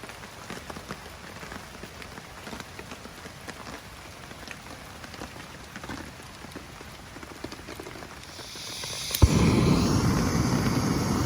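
Steady rain falls outdoors at a backpacking camp in Linville Gorge, a soft continuous patter of drops that grows louder and denser near the end.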